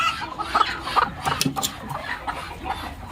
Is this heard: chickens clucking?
yes